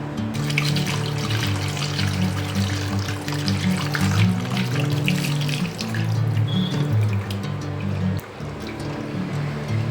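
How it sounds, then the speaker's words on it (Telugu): Tap water runs continuously over boiled goat trotters being washed, a steady close splashing flow that lasts throughout with slight changes in the stream. "ఇది కొన్ని వాటర్ పోసి నీట్గా కడుక్కుందాం"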